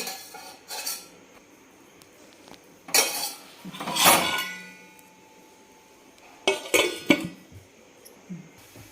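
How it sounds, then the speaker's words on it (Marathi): Metal pot and lid clatter at ghee poured over hot charcoal for smoking chicken biryani, the lid clapped on. Several sharp clanks come in scattered bursts, close and fairly loud, with quiet gaps between them. "याच्यावर आपण आता तूप टाकणार आहे आणि लगेच झाकून ठेवणार आहे"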